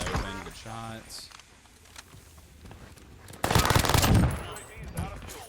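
Bursts of rapid gunfire in Call of Duty Warzone, a dense crackling volley building in the second half after quieter stretches with brief game tones and movement noise.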